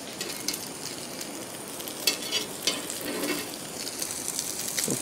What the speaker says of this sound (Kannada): ಎರಡು ಬದಿ ಕೂಡ ರೋಸ್ಟ್ ಮಾಡಿಕೊಳ್ಳುವ.